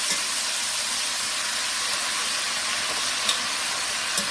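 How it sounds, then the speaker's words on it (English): Beef stew with onions sizzles steadily in a pot on a stovetop, a close, continuous frying hiss with a few faint clinks from stirring. "I'm just going to keep stirring this"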